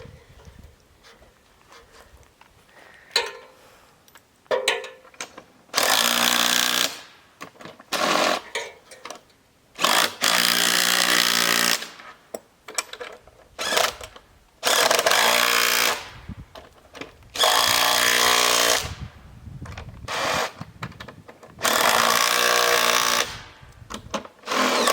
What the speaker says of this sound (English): We're going to go ahead and start tightening up the bolts and get our swings put up.